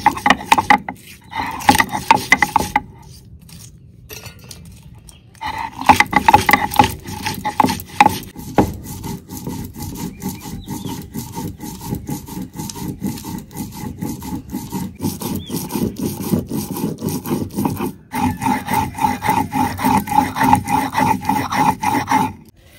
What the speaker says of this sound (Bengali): মশলাটা বেটে নিমু। সাদা সরষা, জিরে, ধনে, শুকনো লঙ্কা, কাঁচা লঙ্কা,